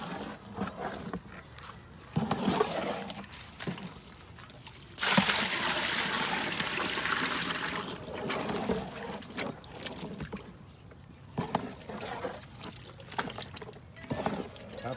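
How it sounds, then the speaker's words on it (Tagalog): Water is poured into a mix of premium and regular hog starter feed and stirred, a broad steady pouring wash for a few seconds amid scattered scraping and handling sounds, no talk. "Tapos po ay tutubigan, hahaluin ng maigi"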